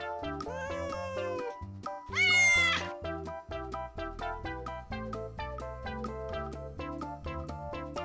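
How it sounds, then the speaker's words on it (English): A cat meows repeatedly in a long chatty series, close and clear, with one louder drawn-out yowl partway through and no talking. "Cats that engage in long conversation often mew for no reason at all"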